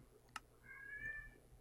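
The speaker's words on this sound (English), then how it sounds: "Cat, shut up." A house cat gives a single drawn-out meow close to the microphone after a sharp click, set against a low, steady room hum.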